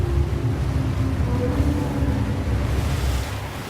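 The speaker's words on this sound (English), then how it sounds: "So that sound you just heard is a skeletal ship" Steady washing of ocean surf and wind rumble from a Sea of Thieves sailing game scene with a skeletal ship nearby, a continuous low roar that fades slightly toward the end.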